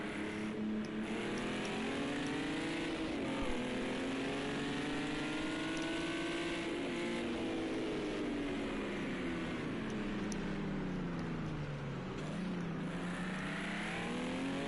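Aston Martin DBR1 race car in a racing video game lapping the Nürburgring sprint circuit, its engine note climbing and falling through gear changes in a steady, loud drone with no talk.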